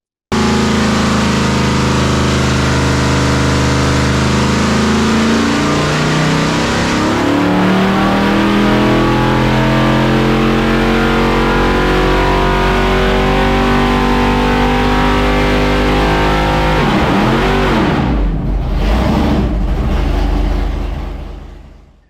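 A 454 big block Chevy engine with a small cam on a dyno pull: a loud, sustained roar climbing steadily in pitch for about seventeen seconds, then dropping off abruptly and fading out.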